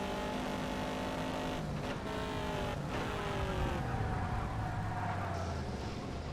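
Classic Mercedes race cars in the video game TOCA Race Driver 3 roar continuously as a pack, with engine pitch sweeping up and down through gear shifts and passes, loud and steady throughout with no talk.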